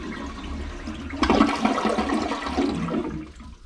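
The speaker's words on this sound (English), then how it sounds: "Next, I flush to get most of the water out of the system." Toilet flushed during a DIY toilet replacement to drain the water out, a quiet tank lead-in followed by a sudden rushing gush of water that swirls and fades over a few seconds.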